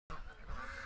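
A flock of ducks honks and quacks loudly and continuously as they rush out of their pen, a dense close chorus of calls.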